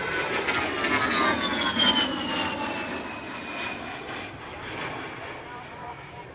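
A Fairchild A-10 Warthog jet at the Fairford air show passes with a sustained whining roar, a high engine tone sliding downward as it moves off and fades slowly.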